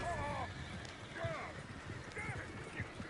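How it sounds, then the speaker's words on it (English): Horses in Red Dead Redemption 2 clip-clop at a gallop with a few high whinnies, heard amid people talking. "Oh, shit, the horses! Damn horses!"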